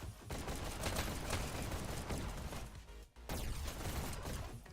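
Rapid automatic gunfire in a competitive VR esports shooter match, dense bursts of shots that run almost continuously with one short gap before resuming.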